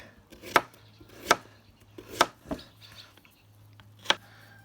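A knife chops a carrot into rounds on a cutting board for Cossack kulish, five sharp, separate knocks at irregular intervals, close and fairly loud, with a low steady hum underneath.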